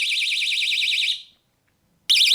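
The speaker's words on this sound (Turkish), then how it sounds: "Buradan bastığınızda nabzınız olmadığında ötüreceğiniz bir kapı alarmı fakat elektronik düdük yerine kullanıyoruz." A handheld electronic door alarm, used as an emergency whistle, shrieks with a loud warbling siren tone, cuts off for almost a second of silence, then starts wailing again.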